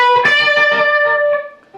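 Electric guitar lick from a song, a loud distorted sustained note with vibrato, picked notes shifting beneath it before it fades out, alone.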